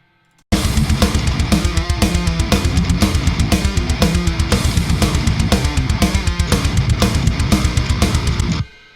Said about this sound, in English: so this is the ride.